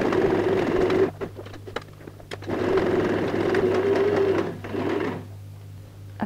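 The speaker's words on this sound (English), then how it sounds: "we're going to go and sew a stitch so that stays in place" A sewing machine sews a back stitch on a DIY bag. It runs in close, steady whirring bursts, with two long runs separated by brief pauses and a shorter run near the end.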